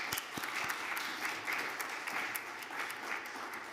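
A crowd applauds speakers at a university graduate talks event, dense clapping with sharp individual claps up front, holding steady at a fairly loud level for several seconds.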